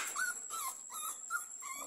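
A Pomeranian stud dog whimpers in a few short, high, plaintive whines close by, quiet and brief with no talk.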